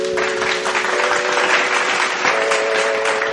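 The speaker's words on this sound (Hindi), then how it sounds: "गोटे जोरदार करताली" A stage audience welcomes a singer with loud, dense applause that lasts a few seconds, while a steady sustained musical tone rings underneath.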